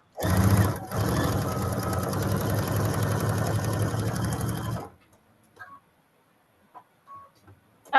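A sewing machine stitches steadily and loudly for about five seconds during a friendly quilting session on a block-of-the-month project, then stops, leaving a quiet room with only small scattered sounds.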